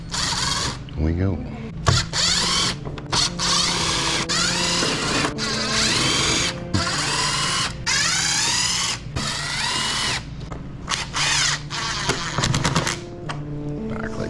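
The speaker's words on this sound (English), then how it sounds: "Because we'll be drilling into those to put the rock lights up underneath." A power drill bores into the plastic fender wells of a new Renegade ATV to mount rock lights, making bursts of loud whirring and grinding with short pauses between them, while voices talk briefly over the work.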